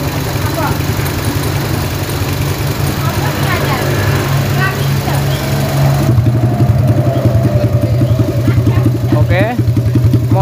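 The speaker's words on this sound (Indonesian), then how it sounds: "Si mesin ini nyala." A motorcycle engine with its exhaust muffler removed runs steadily at idle, a loud, rough, pulsing drone close by, continuing throughout with a slight shift in tone partway through.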